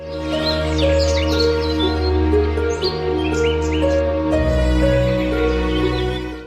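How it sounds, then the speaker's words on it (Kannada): High bird calls and trills flicker over a sustained, droning musical backdrop, bright and melodic, with no one speaking. "ಆಗ ಅವನಿಗೆ ವಿಶೇಷ ಧ್ವನಿಯಲ್ಲಿ ಕೂಗುತ್ತಿದ್ದ ಹಕ್ಕಿಯ ಕೂಗು ಕೇಳಿಸಿತು"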